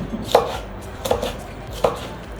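A knife chops food on a board in three evenly spaced, crisp strokes, close and clear with nothing else around.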